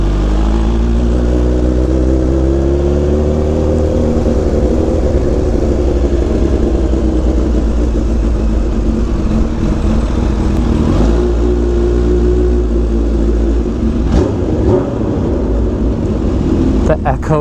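Kawasaki Ninja H2 with a Brock's full exhaust revving lightly to mid RPM inside an enclosed, echoing space, a loud raspy drone that swells and eases, with voices over it.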